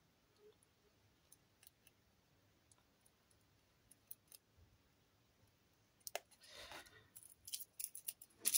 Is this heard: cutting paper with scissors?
yes